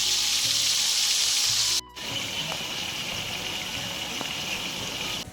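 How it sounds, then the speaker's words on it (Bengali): Potatoes seasoned with salt and turmeric frying in hot oil for a Bengali jackfruit and prawn dish, a steady close sizzle that briefly drops out near two seconds before resuming evenly. "আলুটা আমাদের ভাজা হয়ে গেছে"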